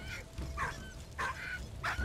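A dog in the World War I video game Valiant Hearts yelps and whimpers in four short, distressed bursts, high and close, spaced about half a second apart.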